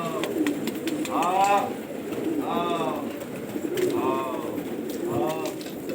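Newly flown pigeons coo close by in four repeated rounds, each a soft rolling burst separated by short pauses, over a low background murmur.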